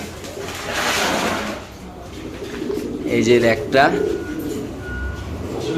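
Soft coos of fancy pigeons at a pigeon farm come and go under a voice talking close by, with low murmuring background noise throughout.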